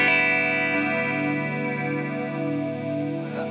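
Electric guitar played through an amp with a gentle reverb added, a sustained chord ringing steadily and evenly for a few seconds with no talking.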